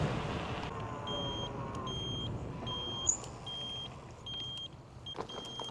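A Hiboy X300 folding electric scooter climbing a steep hill at power level 3 gives off a string of short, high, evenly spaced beeps over a steady motor whine and outdoor rumble.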